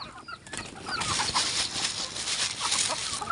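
Egg-laying hens kept in pens clucking and murmuring nearby, a continuous busy chorus of soft calls at moderate level with no talk.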